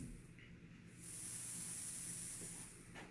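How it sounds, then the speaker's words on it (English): A cicada buzzes outdoors at a shooting range as a continuous high, thin drone that swells after the first second and holds steady, moderately loud, with no speech. "There's a cicada in the background."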